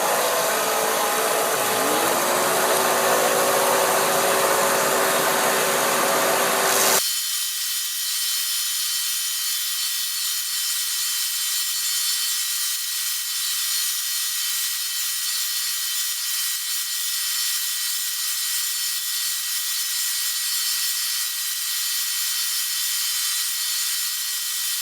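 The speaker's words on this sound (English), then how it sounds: "I'm using my belt sander here." A belt sander with 60-grit paper shapes a pipe stem, giving a loud continuous whir whose pitch shifts as the stem is pressed in, then settling into a steady high hiss for the rest.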